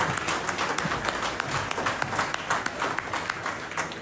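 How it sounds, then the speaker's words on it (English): Audience applause for skier Mikaela Shiffrin at a media day, scattered sharp claps over a busy room wash, fairly soft and uneven with distinct individual hand strikes standing out. "A round of applause for Mikaela Shiffrin."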